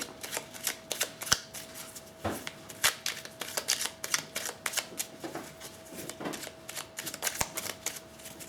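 Tarot or oracle cards being shuffled by hand close up, in quick bursts of soft riffling and slapping that repeat with short pauses between them, fairly quiet and with no talking.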